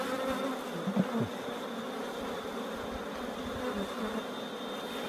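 Honey bees buzz around a hive during beekeeping work, a steady, close insect drone with a faint constant high tone behind it and no talk.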